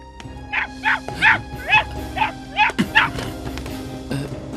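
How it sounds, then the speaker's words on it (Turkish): A dog barks repeatedly in a steady series of sharp, yippy barks, about eight in a row, fairly close, over a low background hum. "Bu köpek sesi buradan mı geliyor?"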